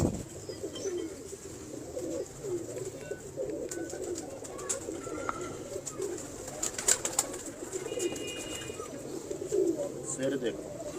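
Pigeons coo repeatedly in a loft where the birds are being shown, low rolling calls that carry on throughout at moderate volume, with scattered chirps and someone talking at times.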